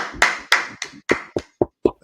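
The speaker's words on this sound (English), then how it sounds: "clap it up, clap it up, clap it up, clap it up" Sharp hand claps at a lively gathering, about eight distinct claps in an uneven rhythm, close and loud, each ringing briefly, with a voice mixed in among them.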